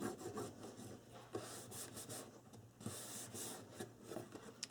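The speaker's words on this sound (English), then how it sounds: "you've got to burnish this to make sure it sticks" Paper hinge being burnished onto chipboard with score tape, a steady dry rubbing and rasping under no talk, with repeated strokes of varying pressure close by.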